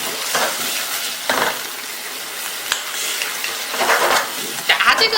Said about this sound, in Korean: 물녹말 조금 넣고요. 바로 저어주세요.